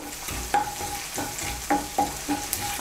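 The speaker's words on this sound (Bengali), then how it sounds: "আর দিয়ে দিচ্ছি হাফ ছোট চামচ কালো জিরে। ফোড়নটা দিয়ে একটু নাড়াচাড়া করে নেব।" Nigella seeds tempering in hot oil in a pan for a Bengali bottle gourd dish, a soft steady sizzle broken by several sharp scraping strokes of a spoon stirring against the metal, close and clear.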